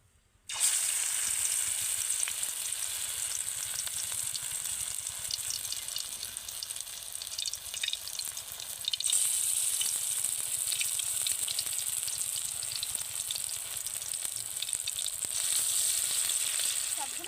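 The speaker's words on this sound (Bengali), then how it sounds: "একইভাবে আমি বাকি সব বড়াগুলো ভেজে নেবো" Spinach and potato fritters deep fry in oil, a loud, continuous close sizzle that begins suddenly and swells slightly midway, with no talking.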